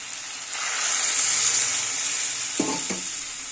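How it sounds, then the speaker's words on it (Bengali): A little water is poured onto fried cauliflower stalks in a hot pan. A steady sizzle surges into a louder, hissing burst and holds close and strong, with a couple of quick scrapes or clinks late on. "সবজিটা ভাজা ভাজা হয়েছে এবার আমি একটু জল দেবো মধ্যে"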